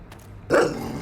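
A dog in the video game Master Detective Archives: Rain Code gives a single loud, close bark after a brief quiet stretch, its tail ringing out briefly.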